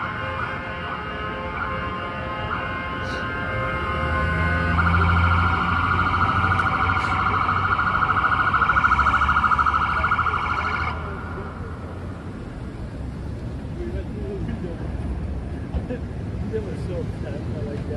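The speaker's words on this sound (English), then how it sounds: "there's always either ambulance activity or police activity here" Emergency vehicle sirens wail along a Midtown Manhattan street at night, a loud warbling tone rising in the middle and then fading, with traffic noise and a nearby voice talking over it.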